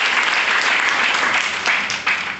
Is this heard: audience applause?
yes